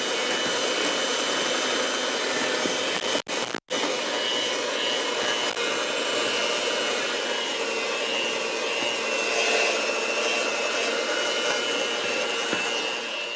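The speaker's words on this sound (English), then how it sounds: "I'm going to put my mixer in, put it on low, and start adding my wet." Electric hand mixer whirring steadily on low speed as it blends gluten-free pumpkin spice batter, a continuous close motor drone with one brief cutout early on and no talking.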